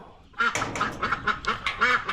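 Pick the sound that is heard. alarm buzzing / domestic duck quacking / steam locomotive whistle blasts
domestic duck quacking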